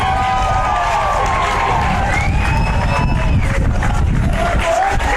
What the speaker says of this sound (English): a raucous crowd on hand here at Pepin Stadium tonight